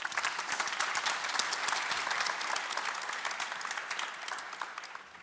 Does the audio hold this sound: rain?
no